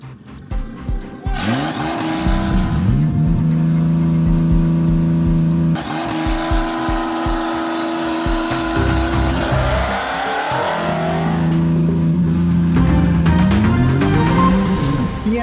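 A Nissan GT-R R35 launches hard at a drag race, its engine surging up through the rev range with loud rising pitch sweeps and sharp gear-change breaks. A second car runs alongside, and the sound is heard close and without talk.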